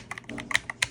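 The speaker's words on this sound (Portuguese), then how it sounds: "barulho do teclado muito top mesmo." Keys clatter in quick bursts on an Akko TAC75 HE magnetic keyboard, a rapid run of crisp, close clicks with brief gaps between them and no voices.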